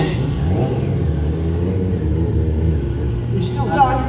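A stunt show car's engine rumbles and revs low with shifting pitch, under a loud commentator's voice, ending in a brief higher squeal.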